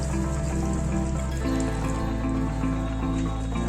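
Water is poured into a pan of fish curry cooking over a gas flame, a steady close splashing and trickling stream lasting the whole stretch, with no talk over it.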